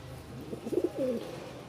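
Pigeon cooing, a male pigeon of a Bengali fancy breed kept for sale in a home loft, giving one short soft throaty coo phrase, fairly close, with no talk.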